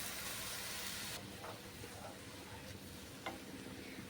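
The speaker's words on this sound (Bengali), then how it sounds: "দুধটা আমি উষ্ণ গরম করে নিয়েছি, এই দুধটা দিয়ে দিলাম।" Warm milk poured into a pan of sizzling small-prawn malai curry cuts the frying hiss abruptly, leaving a softer simmer with light stirring clicks; quiet throughout.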